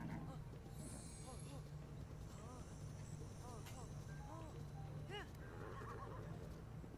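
A horse whinnies repeatedly with hooves clip-clopping in Zelda: Breath of the Wild, a steady game soundscape with a constant low background hum and no clear voices.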